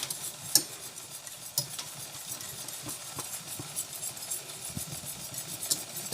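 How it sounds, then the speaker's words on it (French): A spoon scrapes steadily through crème pâtissière with vanilla and flour as it cooks in a pan. The sound is soft and repetitive, with faint sizzling and a few light clicks of utensil on metal. No one speaks. "Il faut tourner tout le temps."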